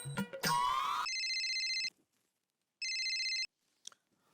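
A telephone rings with a bright electronic tone in two separate bursts, the first about a second long and the second a little shorter, divided by a short silence and set against a quiet room.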